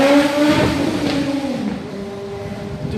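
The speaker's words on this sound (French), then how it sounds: "fait sa petite roue arrière avec sa moto" A motorcycle revs hard while popping a wheelie on a street, the engine note climbing then falling away as the bike moves off, loud and fairly close.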